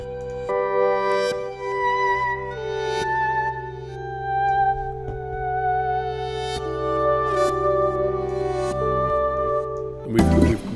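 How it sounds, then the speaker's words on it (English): Reversed acoustic guitar in a studio mix, notes swelling upward and cutting off abruptly, layered as a continuous sustained bed with faint percussive transients throughout, ending in a louder burst. "so this reverse acoustic guitar goes on for, you know, all the way around here."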